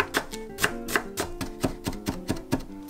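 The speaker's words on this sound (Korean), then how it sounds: "눈에 좋은 당근을 다져줍니다." A knife chops carrots on a cutting board in quick, evenly spaced knocks, about a dozen sharp close hits with no speech over them.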